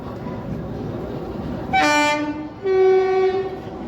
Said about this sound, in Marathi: Narsapur superfast express crossing Parbhani